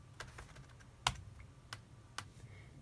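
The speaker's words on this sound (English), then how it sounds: "Now click enter and type in device tree." Keystrokes on a computer keyboard while typing a command into a terminal, a handful of sharp separate clicks spaced irregularly over a low steady hum, one louder press near the middle.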